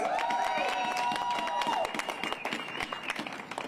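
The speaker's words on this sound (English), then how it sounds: "Everyone give a round of applause." Protesters gathered outside Jacksonville City Hall clap and cheer, scattered outdoor applause rising after a sustained tonal voice at the start and tapering off.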